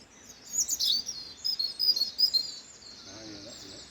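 A robin sings outdoors during a March dawn chorus, mimicking a great tit with bright, repeated high chirps in short bursts, moderately near against a quiet background, with fainter birdsong continuing after the phrases end.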